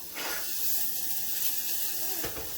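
Butter sizzling in a hot little saucepan as gravy begins, a steady hissing fry that stays loud and even throughout, with a brief flare near the start and end and no talking.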